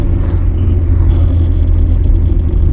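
Steady low rumble of slow highway traffic in a jam near Mangaon, Konkan, a car engine droning close by without a break, with no voices.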